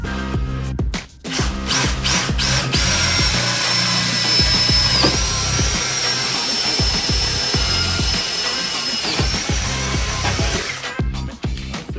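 Power drill boring holes in steel on a golf cart, a steady continuous whine with motor hum lasting nearly the whole stretch, close and loud, briefly pausing near the start.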